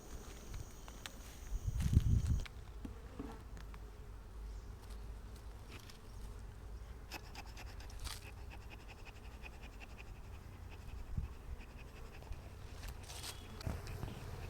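Honey bees buzz faintly around an opened wooden beehive being smoked during rainy-season care, a low steady drone with a brief louder thump and occasional handling knocks.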